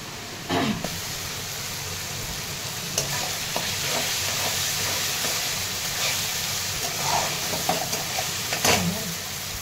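Chopped onion sizzles and frys in a pan with salt, finely ground green chili and garlic, a steady close crackling hiss with occasional stirring scrapes and clinks throughout, no talking.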